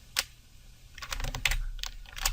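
A computer keyboard clicks in a brief, irregular burst of typing: a single key tap, then a quick cluster of keystrokes and a final tap, close and fairly quiet with no voices.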